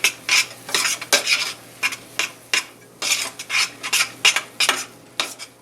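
A spoon works through a melting cheddar cheese mixture in a pan with quick, rhythmic scraping strokes, each one a close, bright swish followed by a short pause.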